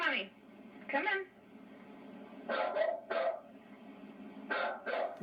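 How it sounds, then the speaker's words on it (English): A dog barks in a few separate bursts, a pair near the start and then two quick doubled volleys later, fairly close with quiet gaps between. "What you barking at?"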